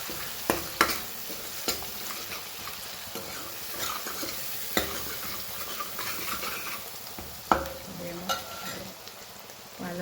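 Sev and spices such as ground coriander-cumin and red chilli powder being stirred in a frying pan, soft scraping and gentle sizzle with a few sharper knocks of the spoon against the pan, fairly quiet.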